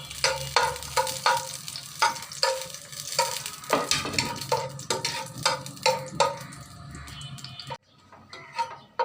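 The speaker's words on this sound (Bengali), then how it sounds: "শুকনা মরিচ 3টে ভেজে নেব" Three dried red chilies fry in hot oil in a pan for a garlic bhorta, a steady crackling sizzle broken by repeated scraping stir strokes, close and fairly loud, quieting near the end.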